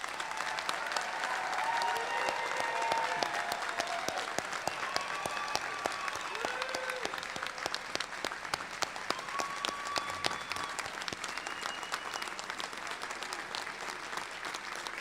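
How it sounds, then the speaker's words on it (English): Audience applause for graduates at a commencement ceremony, a sustained wash of many clapping hands with a few whistles and shouts, steady and moderately distant across the full length. "how about a round of applause for all of our graduates today?"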